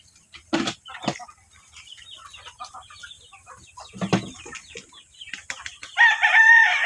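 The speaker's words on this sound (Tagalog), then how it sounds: "Kanina ni guys ang nasa tangkal gipamutang ni Janjan mga syamo ni siya nga manok." Chickens and roosters in a backyard coop cluck and squawk in scattered bursts, close by. A rooster crows loudly at the end.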